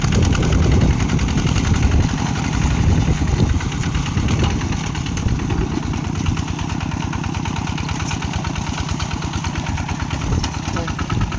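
A two-wheel walk-behind tractor plows a flooded rice field with a steady, loud chugging engine drone that holds throughout, while voices talk over it.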